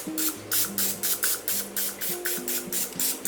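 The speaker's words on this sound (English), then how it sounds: "we're just pouring a little bit of spray" Short hissing bursts of butter cooking spray onto stuffed potato balls, about a dozen in a quick steady rhythm, close and fairly loud, with a faint mechanical hum underneath and no talking.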